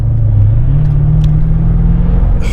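A supercharged Mercedes SL55 sports car gives a deep, bassy engine rumble, loud and close, held steady throughout with no other sound.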